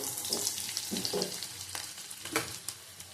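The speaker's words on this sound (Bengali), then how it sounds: "ভালো করে ভেজে নেব হাফ চামচ চিনি দিলাম কালার হওয়ার জন্য আবার ভেজে নেব" Potatoes fried in a pan with half a spoon of sugar, crackling and sizzling steadily up close, with scattered louder spatters and stirring scrapes, and no talking.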